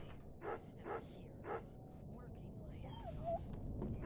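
A dog in the horror game Remothered: Broken Porcelain gives three evenly spaced barks, then a whimpering, whiny yelp over a low ambient room hum.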